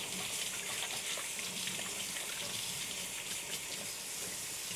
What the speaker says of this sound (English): Let me wash my hands quickly.